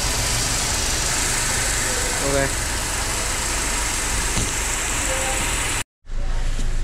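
A Mercedes car engine idles smoothly in a repair shop, a steady even hum holding throughout and cutting out briefly near the end, with a short spoken word over it.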